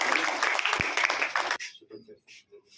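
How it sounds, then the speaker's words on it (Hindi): A short burst of clapping from a group at a children's puppet show event on child marriage, ending abruptly, followed by a few quiet voices. "सर के लिए एक बार ताली बजाएंगे"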